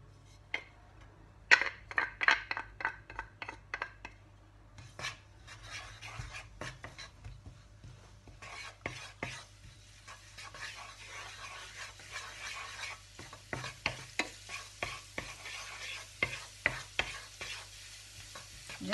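Garlic sizzles in warm olive oil while a utensil stirs and scrapes the pan, with irregular clusters of sharp scraping strokes over a faint steady hiss and low hum, close and moderately loud, no talking.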